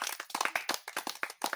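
Onlookers at a street magic show clap their hands in quick, uneven bursts, close and fairly loud, with a few short pauses between volleys.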